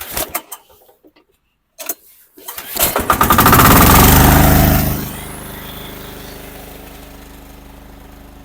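A Husqvarna TF545DE diesel walk-behind tractor, hand-started at -15°C, gives a few weak cranking knocks before catching, then roars loudly for a couple of seconds and settles into a steady, rattling diesel idle.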